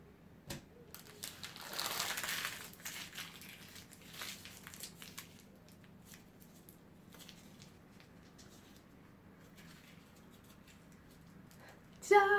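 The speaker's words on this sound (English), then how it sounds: "And I made a paper ball." Paper crinkles and crunches in a brief burst as it is crumpled into a ball, then quieter rustling follows in a calm room.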